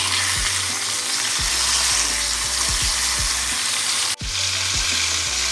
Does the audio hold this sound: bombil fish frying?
yes